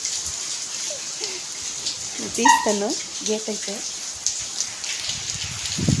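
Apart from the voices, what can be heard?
heavy rain falling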